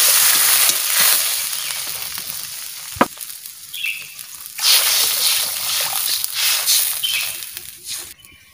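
Water poured into a hot pan while cooking fish curry bursts into a loud hiss and sizzle, eases off with a sharp clink, then flares up again in waves of bubbling and crackle.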